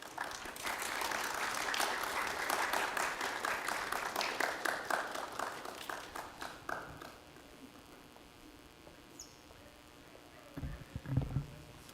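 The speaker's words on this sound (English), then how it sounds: "Another round of applause, please" Round of applause at a university math fair, a sustained wash of many hands clapping that gradually thins and fades into isolated claps, then a short spoken voice near the end.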